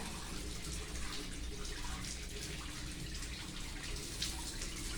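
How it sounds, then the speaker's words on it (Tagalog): Water pours steadily into a washing machine, making a continuous rushing and splashing hiss at moderate volume with no breaks and no talking. "Pinalagyan ko na tubig yung washing machine."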